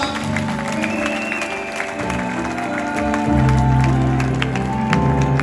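A wedding congregation in a church service claps and cheers in a sustained wash of applause, mixed with music throughout.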